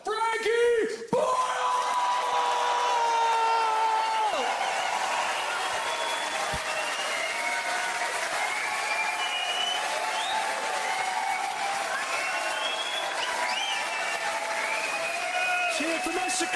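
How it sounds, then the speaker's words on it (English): A packed Glasgow comedy crowd roars with sustained applause, whoops and yells as a comedian walks on; the loud, dense clapping and cheering continue steadily throughout, with a shouting voice briefly audible at the start. "Well, then let's make even more noise than that and welcome out the one, the only, your own Glasgow, Frankie Boyle!"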